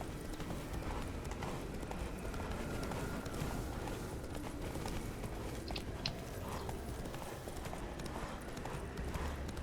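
Roach, a horse in The Witcher 3 video game, gallops in a fast, continuous rhythm of hoofbeats, loud and close, layered over game ambience.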